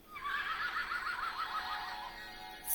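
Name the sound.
unicorn neigh from a children's sound book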